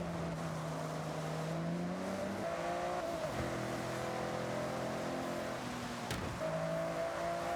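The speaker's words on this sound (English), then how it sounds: "we're gonna have to do some Forza racing here." A race car engine in the video game Forza Horizon 6 drones steadily at high revs, its pitch shifting through gear changes and climbing again, continuous and unbroken with no talk.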